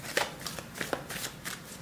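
Tarot cards being shuffled and drawn for a Celtic cross spread: soft papery riffles and slides in a quick run of close, fairly quiet strokes, with no speech over them.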